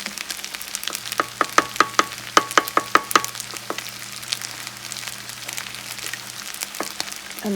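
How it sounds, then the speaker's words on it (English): Scrambled eggs cooking in a little oil in the centre of a pan, heard as a rapid series of sharp crackles and pops over a soft sizzle and a faint low hum, close and without talk. "And then just cook your scrambled egg right in the middle."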